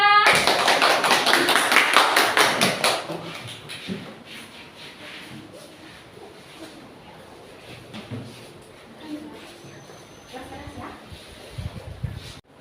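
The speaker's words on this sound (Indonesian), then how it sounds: "Kita beri tepuk tangan untuk kelompok 2." Classroom students applaud a presenting student group, a dense burst of clapping for about three seconds that then stops, followed by quieter room noise and scattered movement.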